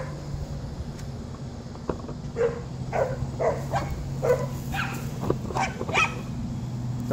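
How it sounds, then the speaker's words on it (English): Dogs bark repeatedly at a distance over a garden where compost is being added, a string of scattered yaps rising over a constant low hum, with no one speaking. "Barking and barking and barking."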